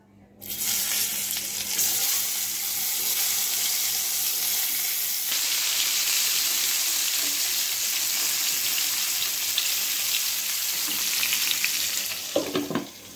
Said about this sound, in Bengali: মাছ ভাজার তেলটার মধ্যে পটলটি এখন ভাজা নেব।